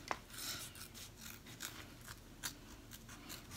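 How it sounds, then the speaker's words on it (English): Applique scissors snip through fabric while cutting out a zipper bag piece: a close, quick run of repeated crisp cuts with slight rasping between snips and no talking. "Now I'm going to take my applique scissors again"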